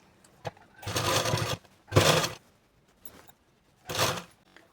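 Short bursts of a sewing machine stitching a blouse, three quick whirring runs up close with brief handling noises and pauses between them, no speech.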